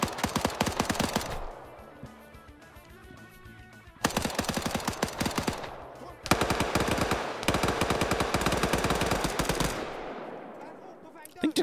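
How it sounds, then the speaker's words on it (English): Bursts of automatic gunfire in a military shooter video game, loud rapid rattling volleys in three long strings separated by brief quieter gaps, with a voice speaking faintly underneath. "Am I being mag dumped?"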